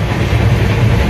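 Steady low rumble and rattle inside a moving train coach, a loud continuous drone with no talking.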